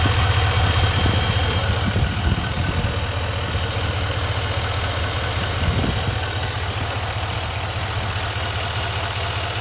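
A 2024 Chevy 2500HD pickup with a second-generation Duramax L5P diesel engine idles in a steady, loud, close rumble that holds even throughout, with no one speaking.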